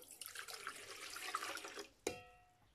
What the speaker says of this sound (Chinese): 接下来，我们准备一个锅，加入500毫升的开水